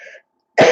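A single cough into a coat sleeve, demonstrated as a short muffled burst near the end after a brief trail of speech and a pause of silence.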